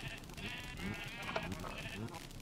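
Sheep bleating in the Minecraft video game, several short wavering bleats layered over each other near a sheep line, moderately loud with faint speech mixed in.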